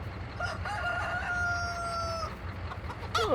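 Chickens cluck, and a rooster gives a long, clear crow. The calls are moderately close on a quiet farm, with no talk.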